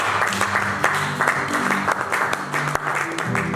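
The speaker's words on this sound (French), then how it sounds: "acclame Jésus, acclame" Applause fills a French-language church worship service, a steady broadband clatter of clapping with music or voices faintly underneath, continuous for a few seconds.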